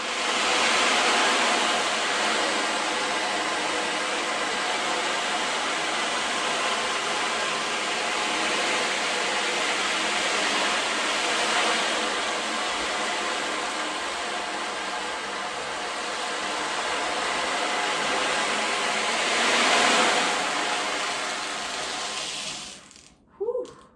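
Beads roll inside a handheld ocean drum to imitate surf, a continuous hissing wash that swells and recedes in slow waves, close and fairly soft, ending in a couple of light knocks.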